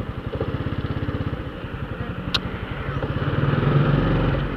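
A Honda Biz 125 motorcycle engine drones steadily up close while being ridden, its rhythmic pulsing dipping briefly at a gear change before building again.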